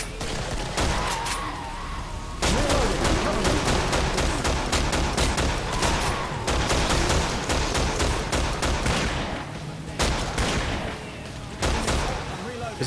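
Lever action rifle gunfire in the Killing Floor video game comes as dense, rapid volleys of loud shots mixed with other game noise, with people talking over the shooting.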